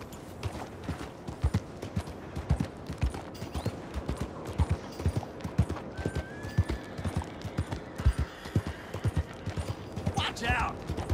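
Horse hooves clip-clop in a steady, close rhythm in Red Dead Redemption 2, with occasional snorts and faint game sounds layered underneath, continuing for about eleven seconds.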